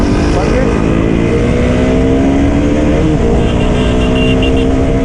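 Several KTM motorcycles on a Republic Day group ride through Varanasi roar together in a loud, steady engine drone, with revving that rises and shifts while someone talks over the noise.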